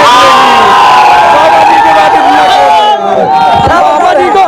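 A large, loud crowd cheers and shouts at an Akhilesh Yadav rally in Milkipur, gathered to see his helicopter, a sustained roar of massed voices with whoops, briefly dipping before surging again.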